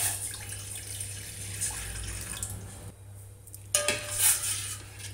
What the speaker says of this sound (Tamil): நெக்ஸ்ட்டு ஒரு 300 ml தண்ணி ஊற்றுங்க.